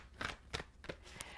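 A deck of oracle cards being shuffled, heard as a few crisp, papery riffling snaps at uneven intervals, close and fairly quiet, with no speech.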